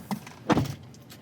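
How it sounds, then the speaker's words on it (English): The door of a 2021 Mazda3 AWD Turbo shuts with one muffled thump, heard close from inside the car at night, preceded by a faint click and followed by quiet. "let me shut the door so you can see what I'm talking about"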